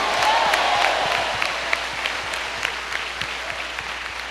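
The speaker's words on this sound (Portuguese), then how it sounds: "Só quem crê dá um aplauso a Jesus" A church congregation breaks into warm applause, loud and dense at first, then thinning into scattered claps as it fades over a few seconds.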